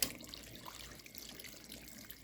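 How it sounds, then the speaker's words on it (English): Warm water is poured into a pot as the base for palm nut soup, a steady soft splashing trickle heard alone and fairly faint. "Okay, let's pour some warm water here."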